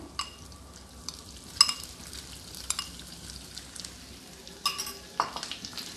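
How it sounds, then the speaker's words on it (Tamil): Grated coconut frying in a pan alongside raisins while making Chatti Pathiri, a steady soft sizzle with occasional scraping clicks and brief clinks of a spatula against the pan, moderately close. "இனி அதில் நம்ம துருவி வச்சிருக்கிற தேங்காயை போட போகிறோம்"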